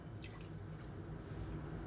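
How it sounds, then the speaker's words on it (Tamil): About five tumblers of water are poured into a pot for sambar, giving a soft, quiet trickling and dripping splash with no talk over it. "சேர்த்துட்டு ஒரு 5 டம்ளர் அளவுக்கு தண்ணி சேர்த்துக்கலாம்"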